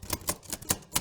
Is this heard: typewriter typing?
yes